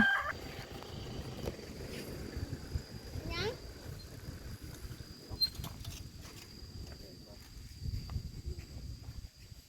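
Chickens cluck and gobble in a rural yard, with one clear call early and scattered softer fowl sounds among rustling and outdoor background noise.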